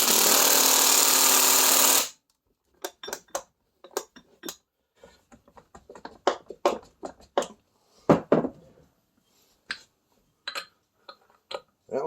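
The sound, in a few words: power tool tightening Triumph Spitfire wheel bolts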